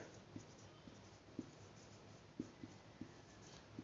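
Numbers being handwritten with a pen on paper during a third-grade subtraction lesson: very faint, soft scratchy strokes and small taps under a quiet background hiss.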